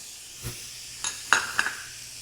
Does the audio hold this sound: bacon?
yes